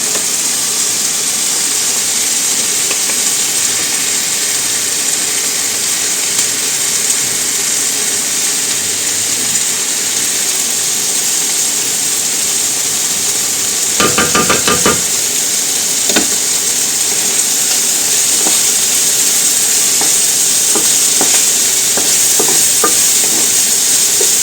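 Lardons with crushed garlic fry in a pan in a steady loud continuous sizzle and hiss, with a short burst of scraping stirring partway through.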